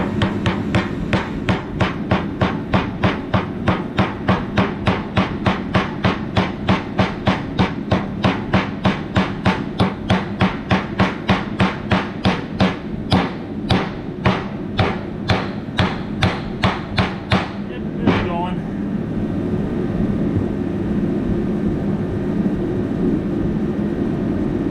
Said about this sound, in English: This is a lead hammer, super soft.